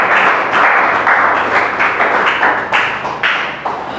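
Wedding guests applaud at a civil ceremony, a steady loud patter of many hands clapping at once that swells and eases in waves, with no voices over it.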